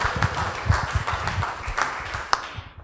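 Modest applause from a church congregation, a short spell of mixed claps with some voices and low rumble underneath, fairly near.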